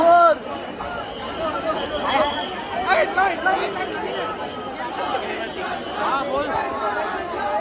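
A huge, dense crowd packs the streets of Mumbai for the India T20 World Cup victory parade, with a steady roar of overlapping chatter and distant shouts that stays loud and continuous throughout.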